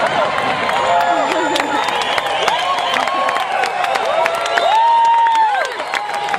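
An outdoor Fourth of July crowd in Driggs, Idaho cheers, whoops and applauds loudly and continuously, with shouts and whistles rising over the clapping.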